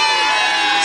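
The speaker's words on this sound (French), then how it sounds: "On les applaudit bien fort." A crowd cheers and shouts in a brief, dense burst of voices at a French regional competition round in 1989, loud and close for under a second.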